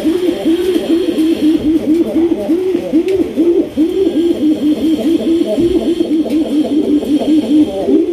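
A black pigeon coos steadily and close by, a rapid run of repeated rolling coos with an even rhythm across the whole stretch, set in a pigeon loft at Kashimpur, Gazipur.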